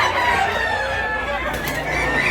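A rooster at a Cebu market crowing and clucking, close and fairly loud, with a busy noisy background throughout.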